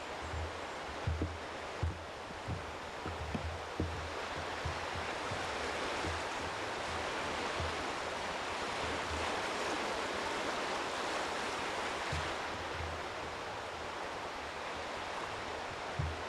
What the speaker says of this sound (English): Sure pretty to hear the water.